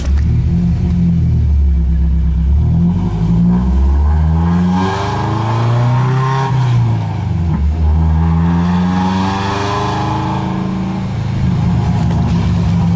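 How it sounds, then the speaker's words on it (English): A Nissan S13 car engine revs repeatedly with a raspy, loud aftermarket full exhaust, rising and falling in pitch, close by with no talking. "So I put this freaking exhaust on, it sounds so ricey."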